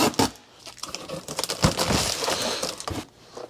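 Crinkling, tearing sounds of adhesive tape being pulled off come in uneven bursts, close and moderately quiet, with no one speaking.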